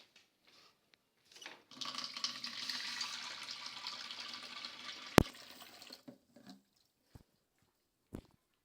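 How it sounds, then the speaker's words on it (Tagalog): Water pours steadily into a container for about four seconds, close and moderately loud, then stops, followed by a few sharp clicks and small knocks. "Lagyan natin tubig."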